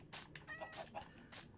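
Chickens in a Minecraft chicken cooker cluck in quick, bursty calls, several overlapping in a faint, busy run.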